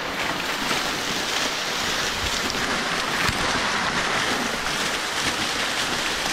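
A waterfall in Harnoi, Abbottabad, gives a steady, dense roar of rushing and splashing water that stays close and loud throughout, with no voices over it.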